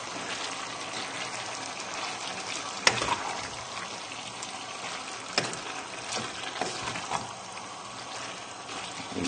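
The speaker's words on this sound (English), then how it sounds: "Give that a stir." Spaghetti bolognese sauce with chopped tomatoes bubbling in a pan as it is stirred, a low wet simmering hiss broken by a few sharp spoon clinks against the pan.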